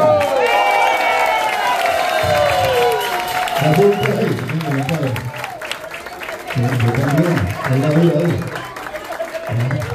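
An audience applauds a former singer at Bellas Artes de Santurce. The clapping and cheering build under a steady crowd roar, mixed with tones like music early on and talk that continues throughout.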